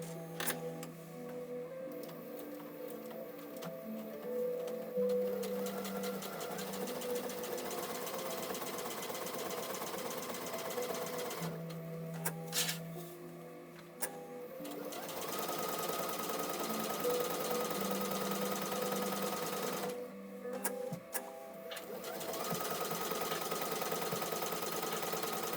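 A sewing machine runs steady top stitching in bursts, a quiet rapid mechanical whir broken by short pauses and clicks, heard alone and fairly close.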